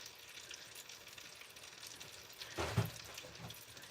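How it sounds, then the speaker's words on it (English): Steady hiss of chicken sizzling while browning in a hot Instant Pot, with a louder crackle and a brief clatter near the end as pieces shift. "Okay, you guys can hear it sizzle."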